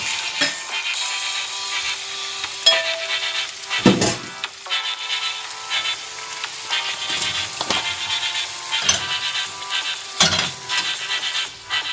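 Meats fry in a large paella pan with a continuous crackling sizzle, broken by occasional scraping and knocking of a utensil against the pan.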